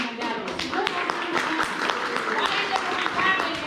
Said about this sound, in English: Why is everyone clapping?